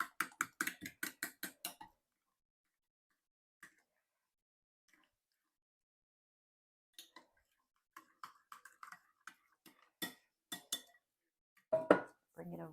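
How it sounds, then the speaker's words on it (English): A spoon clatters in a bowl as lasagna filling is stirred with salt and pepper, with a quick run of rhythmic taps at first, a near-silent gap, then scattered scraping knocks with some speech mixed in. "mix this up good"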